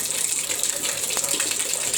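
A wall-mounted bath tap runs water into the bath in a steady hissing gush, close and continuous, with one small splash partway through.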